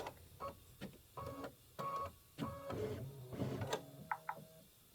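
An embroidery machine trimming its thread, a quiet run of short mechanical whirs and clicks with a brief motor hum and two small beeps near the end, close up and without speech.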